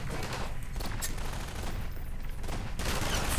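Rapid gunfire from the Half-Life 2 video game, dense bursts of shots that rattle on steadily through the whole stretch with no speech over them.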